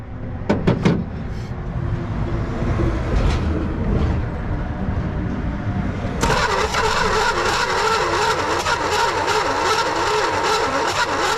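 A 1966 Dodge Dart's starter cranks an engine that sat parked for 25 years, turning over slowly. A steady grinding whine starts partway through after some clunks and rumble, then continues unbroken to the end with no voices.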